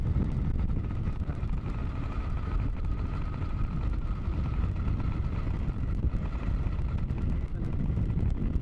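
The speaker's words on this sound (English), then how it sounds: "It's just quite a low revving kind of bike." A 1974 Harley-Davidson motorcycle rides along at low revs, a steady low engine drone mixed with constant wind rush across the microphone, close and unbroken throughout.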